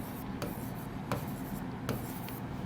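Chalk or marker scratching across a board while examples are written out, a soft continuous rubbing with a few sharper strokes, under a steady room hiss.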